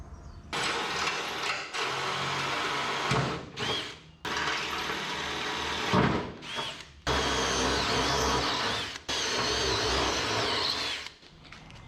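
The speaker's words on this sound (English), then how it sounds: "Drill some pilot holes." A power drill bores pilot holes through hard welds on a 1973 Chevy pickup bed, with several long, steady whining runs that stop abruptly between bursts, close and loud.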